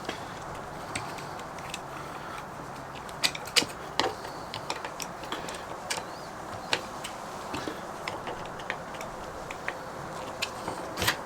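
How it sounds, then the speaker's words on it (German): Screws are driven by hand to fix a shelf bracket while building sturdy pull-out cellar cabinets. Close, irregular clicks, ticks and creaks repeat over a low steady background. "und dann schrauben wir hier die beiden Schrauben fest,"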